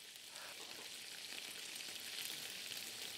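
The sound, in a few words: beef tripe (gopchang) sizzling while stir-frying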